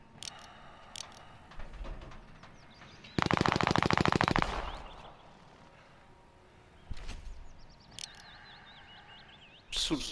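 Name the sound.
gunfire in Call of Duty Modern Warfare video game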